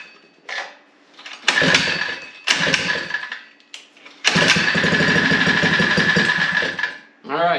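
A Mega Moto 80/105 mini bike engine catches in three short sputtering bursts separated by pauses, then runs loudly and steadily at close range for several seconds before cutting out.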